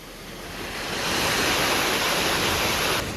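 A hidden waterfall near Payyanur, Kannur: a steady, broadband rush of falling water that swells slightly and then holds loud and close, with no voices.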